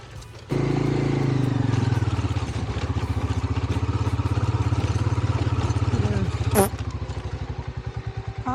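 An old Honda Africa Twin motorcycle ridden along a rough, rocky hiking trail in Kyrgyzstan; the engine kicks in suddenly and chugs steadily and close, with clattering bumps and a brief sharp rise near the end.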